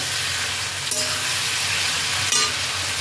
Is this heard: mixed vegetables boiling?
yes